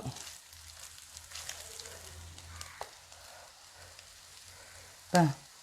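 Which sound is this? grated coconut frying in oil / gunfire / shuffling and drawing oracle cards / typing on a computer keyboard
grated coconut frying in oil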